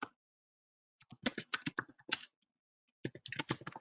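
Linux commands being typed on a computer keyboard: a quick burst of crisp, close key clicks, a pause of about a second, then another rapid run of keystrokes, with no voices.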